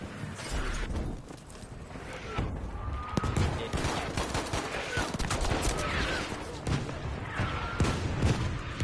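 An artillery barrage and rattling gunfire thunder almost continuously in the Battlefield 5 video game, dense layered blasts and bursts at moderate loudness, with some faint voices mixed in.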